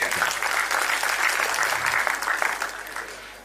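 A business funding pitch audience claps for a man called forward, a short burst of steady, moderately loud applause that tapers off.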